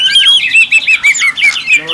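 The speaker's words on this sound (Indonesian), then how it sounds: "kenari" Canary singing close up, a bright rapid series of warbling trills and chirps in repeated bursts, loud and clear with nothing else behind it.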